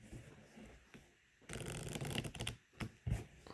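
Unsleeved Keyforge cards riffle-shuffled on a playmat: a quiet shuffle of handling, then a loud buzzing riffle burst followed by short bridging flutters and taps, close up.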